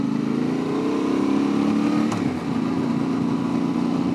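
Motorcycle engine running steadily while riding through grassy bush, a continuous close drone with slight shifts in pitch and no talk.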